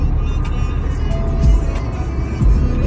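A car drives along a road, heard from inside as a steady low engine and road rumble with a couple of brief thumps, no talk.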